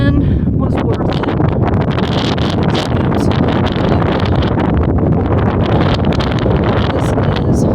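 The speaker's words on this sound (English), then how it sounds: "especially with the wind blowing me sideways" Strong, steady wind roars across the microphone on an exposed Appalachian Trail mountain climb near Hump Mountain, a loud continuous buffeting rush with no pauses throughout.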